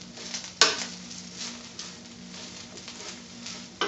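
Kale being pan fried in a pan: a steady, soft sizzle and patter throughout, broken by a couple of sharp clinks of a utensil against the pan.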